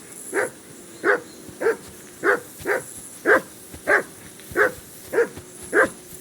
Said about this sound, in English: Be quiet, you flea-bitten hound.